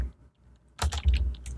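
Keys clatter on a computer keyboard in a short, quick burst of typing that starts after a brief near-silent pause, close and fairly loud.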